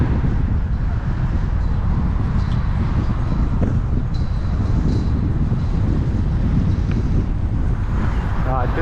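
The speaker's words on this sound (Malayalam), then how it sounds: "കാറ്റുണ്ടല്ലോ." Steady wind buffets the microphone outdoors on a Toronto street, a loud continuous rumble with no letup, masking most other sound.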